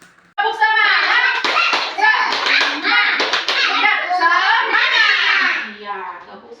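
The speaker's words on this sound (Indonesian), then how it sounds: "Iya, tepuk semangat." Children in a classroom performing a rhythmic spirit clap, sharp hand claps in patterned bursts interleaved with children chanting and calling out loudly, close and energetic.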